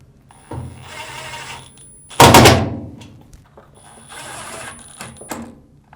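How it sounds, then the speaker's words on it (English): A power screwdriver drives Phillips screws into the back of a Samsung washing machine in two whirring bursts, with a loud clunk between them. "on the back side, we'll reinstall the 2 Phillips screws."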